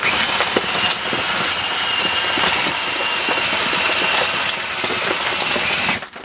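A homemade mixing tool riding on a nut runs continuously as it churns soil inside Lexan sides, giving a steady loud whirring motor drone that cuts off near the end.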